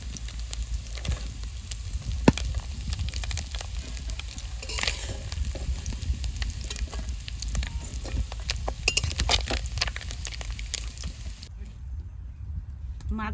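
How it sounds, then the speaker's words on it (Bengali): Small river fish fry lightly in hot oil in a home kitchen, a steady close sizzle with crackles and pops running throughout, and a voice talking over it. "ছোট মাছ তো বেশি ভাজলে ভালো লাগবে না ওই জন্য হালকা ভেজে নেবো"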